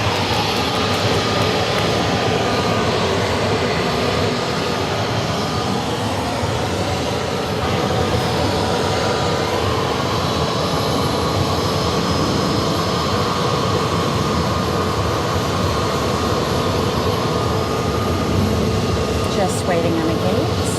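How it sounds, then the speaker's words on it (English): American Airlines airliner taxiing toward the gate at Phoenix Sky Harbor Airport, a continuous loud jet engine whine and roar with a steady hum, sustained without breaks at moderate distance. "Making his way to the gate is American Airlines Flight"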